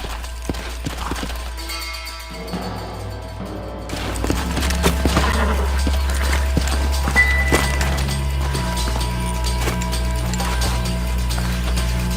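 Horses in the Red Dead Redemption western video game, with hoof clip-clops and footfalls over a steady low rumble and scattered sharp knocks, fairly loud and continuous.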